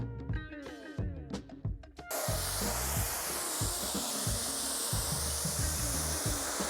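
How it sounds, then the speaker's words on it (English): A pressure washer rinses a C8 Corvette, its steady loud broadband hiss of spraying water starting abruptly after a short stretch of clatter and continuing unbroken to the end. "Now we're going to give it a thorough pressure rinse."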